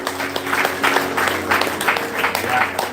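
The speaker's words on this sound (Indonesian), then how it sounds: "Tepuk tangan untuk semuanya." A crowd claps steadily at a Christmas celebration, a dense patter of many hands applauding together at close range, with faint voices mixed in.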